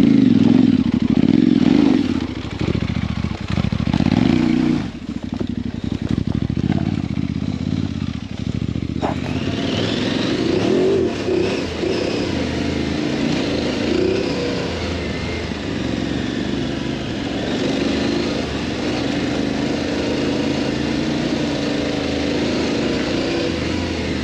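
Off-road motorcycle engine on a dirt track near Liège, Belgium, roaring loudly and close as it starts and revs, then settling into a sustained, rough buzzing drone for the rest of the stretch.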